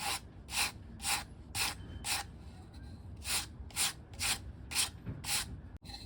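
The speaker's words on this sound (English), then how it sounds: "I'm just gonna hit it lightly with 80 grit sandpaper as before." Rhythmic back-and-forth scratching of 80 grit sandpaper lightly smoothing a filled, glued wood joint, about a dozen short rasping strokes in a steady cadence, fairly quiet and close.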